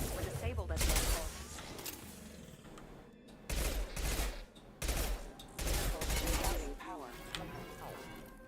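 Auto pistol gunfire in the video game Mass Effect 2 comes as several bursts of rapid shots separated by short gaps, loud and dense, with game sounds and some talk mixed in.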